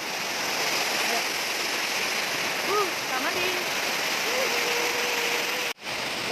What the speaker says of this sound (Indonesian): kita ke air terjun